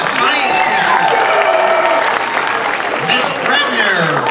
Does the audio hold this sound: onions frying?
no